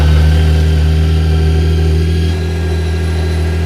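A superbike engine running loud and close, a steady deep idle with a rough throb that eases slightly partway through, no talking.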